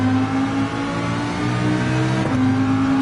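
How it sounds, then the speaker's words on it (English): Ferrari 458-style engine from a car in Gran Turismo 7 on the Dragon Trail circuit, a steady sustained engine drone with strong harmonic tones and a brief dip in pitch near the end, loud and continuous with no talking. "It has a similar architecture to the Ferrari 458 engine, and it sounds very similar to one"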